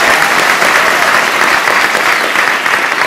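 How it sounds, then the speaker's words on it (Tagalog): An audience at a Filipino balagtasan-style poetic debate breaks into loud, sustained applause, a thick, even roar of many hands clapping close by without pause. "Ang panig sa kanya'y ngayoy pumalakpak"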